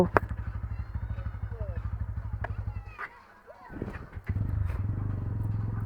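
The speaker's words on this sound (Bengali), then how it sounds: "হান্টার 350 রয়্যাল এনফিল্ডের কিছু ভিডিও তোমাদের ক্লিপ দেখাই।" A Royal Enfield Hunter 350 motorcycle thumps along in a steady, close single-cylinder putter, briefly dropping away in the middle before the engine pulls strongly again, with a voice talking over it.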